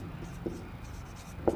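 Writing on a board during a simple interest maths lesson: soft, continuous scratchy strokes at close range with a couple of brief taps, fairly quiet and without talk.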